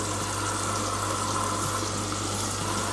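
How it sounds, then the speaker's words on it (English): Hotpoint BIWDHG75148UKN integrated washer dryer drawing in water on a Whites 90ºC programme: a steady, continuous hiss and rush of inflowing water over a low constant hum, unbroken and fairly quiet throughout. "That is a lot of water that's taken in."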